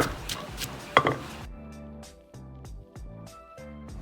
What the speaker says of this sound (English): I'm going to use my trusty pestle and mortar